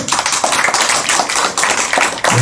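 An audience at a Korean health lecture claps, a loud, close burst of hand claps with a few distinct sharper accents within a fairly continuous patter.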